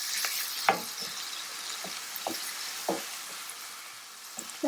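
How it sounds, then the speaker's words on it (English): Onions frying and browning in a pan, a steady soft sizzle broken by several distinct scrapes and taps of a utensil stirring them, close and with no one speaking. "Then you just add your onions and we'll brown them."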